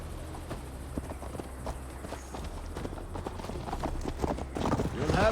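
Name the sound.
horses galloping on the ride to Tamworth, from a video game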